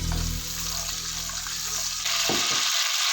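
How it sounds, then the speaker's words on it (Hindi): Curry leaves crackling in hot oil in a pan, about fifteen to twenty leaves, giving a loud, close, continuous hiss and spatter that grows brighter toward the end before cutting off. "मैं ऐसे अगेन 15-20 जो है कड़ी पत्ता ऐड कर रही हूँ और इसको थोड़ा सा क्रैकल कर लूँगी"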